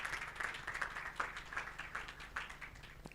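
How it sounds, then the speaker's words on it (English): An audience at a climate finance summit applauds to welcome the Minister of Finance to the podium, a fairly faint, steady spatter of many hands clapping in a large room, continuing evenly throughout without spoken words. "Please welcome him with a round of applause."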